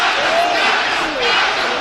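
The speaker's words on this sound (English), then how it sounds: "you can see the fans of Carter Efe chanting his name" Boxing fans in an arena crowd chant loudly and continuously at a celebrity bout, a dense roar of many voices close and filling the space.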